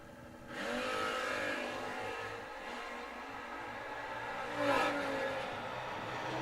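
Drag racing cars, one of them a Nova, launch down the strip with a steady, distant engine roar that holds for several seconds. The roar swells briefly near the end and no one speaks over it.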